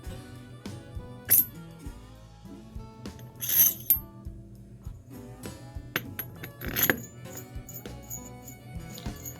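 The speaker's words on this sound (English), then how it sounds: "put on the intake compressor wheel and tighten down the turbine nut" Metallic squeaks, clinks and ratcheting clicks come from tightening the turbine nut on a Cummins 5.9 CTA turbocharger's intake compressor wheel, sounding as a few scattered tool bursts over faint shop hum.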